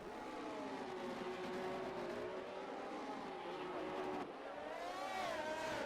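Formula One cars in a racing video game whine past at high revs, with engine pitches climbing and sliding as one car slipstreams and overtakes another. The loud, continuous roar eases briefly before a fresh engine note rises.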